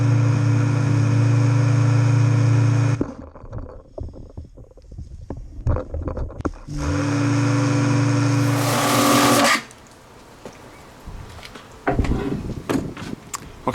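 Water sprays over a bike during a pre-wash, a loud hissing jet that runs in long bursts with gaps of handling noise between them, close and steady, then drops away to quieter fiddling sounds.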